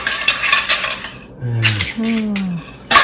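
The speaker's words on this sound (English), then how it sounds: "I'm gonna get first a lot of clam sauce and put it right on top of the spaghetti" Metal spoon and pot clatter as clam sauce with chopped clams is ladled onto spaghetti: close clinks and scrapes, a couple of brief ringing metallic tones in the middle, and a sharp knock at the end, loud and without talk.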